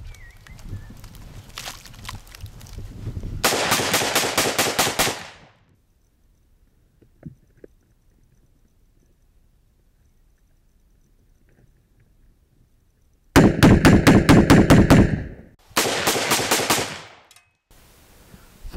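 An FAV-AR rifle fires just after being pulled from an extreme mud test: a dense burst of rapid automatic shots, then near silence with a faint knock, then two more loud bursts close together near the end.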